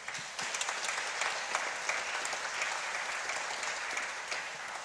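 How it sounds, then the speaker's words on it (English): A piano recital audience claps in a continuous, moderately distant wash of applause with a few sharper individual claps standing out, sustained for about five seconds. "so let's give them a round of applause"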